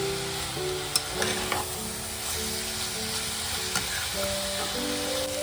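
Bok choy greens frying with ginger paste give a steady, close sizzle that runs unbroken through the clip, with a few light stirring knocks and soft background music underneath.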